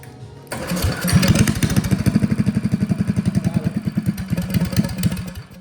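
Old Russell 196cc small gasoline engine sputtering to life and running with a rapid, chugging pulse, loud and close, idling unevenly.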